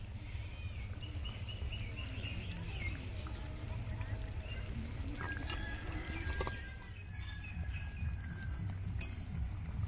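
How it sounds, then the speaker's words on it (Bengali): Ghee is poured over katla fish kalia in a pan, making a steady soft pouring and sizzling sound over a low continuous hum, with a voice briefly audible. "এবার দিয়ে দেবো ঘি উপর দিয়ে।"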